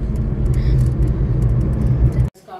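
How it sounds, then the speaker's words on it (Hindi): A car overtaking on a road in Karachi, a loud rumbling engine pass with road noise that cuts off abruptly near the end, followed by faint voices. "ये नूर ओवरटेक मारते हुए"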